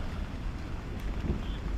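Very heavy rain pours down in a dense, constant hiss and roar with no breaks. Nobody speaks.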